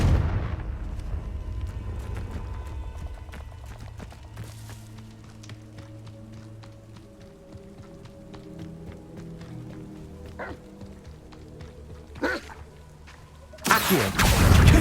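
Confringo fire spell blasts cast in the Hogwarts Legacy video game, a run of booming impacts over a low rumbling game backdrop, with a sharper loud burst near the end.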